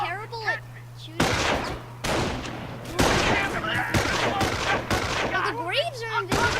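Bursts of rifle and machine-gun fire from the Company of Heroes video game, with repeated rattling volleys and sharp shots, heard under excited voices talking and calling out.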